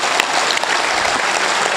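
Dense, loud applause from an audience at a Hindi poetry recital, a brief burst of continuous clapping filling the hall with no voice over it.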